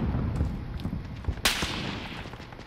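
Sniper gunfire in the video game Call of Duty: Modern Warfare, a single sharp crack midway through over a rumbling background of distant battle noise.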